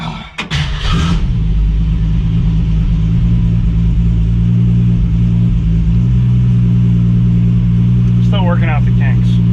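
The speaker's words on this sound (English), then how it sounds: "Now we got a rough idle." A 1965 Ford Mustang restomod engine idles roughly, a loud steady low rumble running throughout, with a brief rev near the start and a short voice breaking in near the end.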